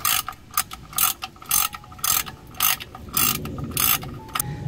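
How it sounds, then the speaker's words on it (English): A torque wrench tightens the oil drain plug on a Volkswagen Jetta Sportwagen, giving a close, rapid series of sharp ratcheting clicks in short bursts with brief pauses between strokes. "Make sure it's torqued to 22 foot-pound."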